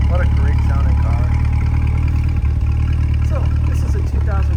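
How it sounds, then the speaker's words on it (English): A 2020 Corvette C8 Coupe with the NPP performance exhaust idles nearby, giving a steady, deep rumble that continues throughout while a person talks over it. "listen to that NPP exhaust at idle"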